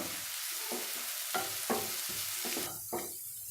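Onions sauté in a pan, sizzling softly while a spoon stirs and scrapes through them in a loose, repeated rhythm.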